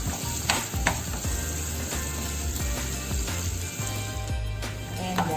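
Garlic and onion sizzle steadily in a pan for pork adobong tuyo, with a constant close frying hiss and repeated scraping knocks of the spatula throughout.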